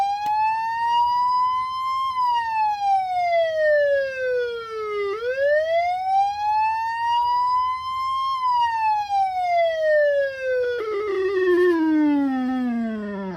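A Federal Interceptor PA-20A electronic siren with aged capacitors sounds loud and clear through a speaker, sweeping in slow rising and falling wails before the tone shifts into a wavering, unsteady warble near the end.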